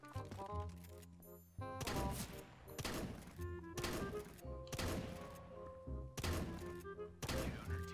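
Gunfire in the video game CS:GO, where a series of loud, sharp shots hit in irregular bursts. Ringing tones from the game play underneath, and nobody talks.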